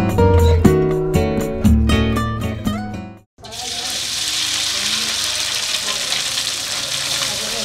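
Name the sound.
stir-frying spiced smoked fish filling in a pan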